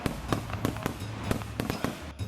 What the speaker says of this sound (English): Look, there are some fireworks now.